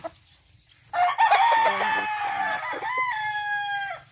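Early in the morning at a backyard chicken coop, a rooster lets out a loud, drawn-out crow close to the listener, with hens clucking around it and some quiet murmuring beforehand.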